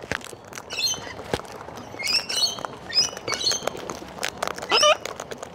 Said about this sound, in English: birds in the tree